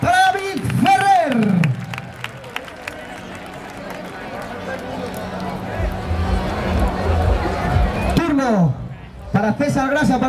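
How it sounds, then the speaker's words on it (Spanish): A crowd at a bullfighting event in Casetas, Zaragoza, applauds, with steady clapping and crowd noise through the middle, while an announcer speaks loudly at the start and end. "Fuerte el aplauso para David Ferrer."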